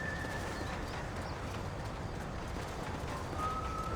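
Horse hooves clip-clopping in the Red Dead Redemption video game, a dense steady patter under a continuous wash of game ambience, moderately loud with no talk.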